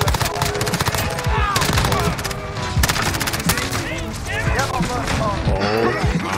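An MP7 submachine gun fires in Modern Warfare, with dense bursts of rapid automatic gunfire and game effects running continuously and loudly, while a voice talks over the shooting.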